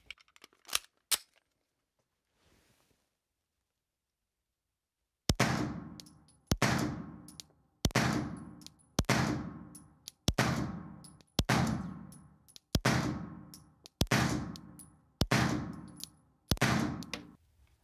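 A Stoeger STR-9 S Combat 9mm pistol fitted with a suppressor is fired offhand at a range: ten sharp, evenly spaced shots ring out loud and close after a few quiet clicks, each with a short decaying tail.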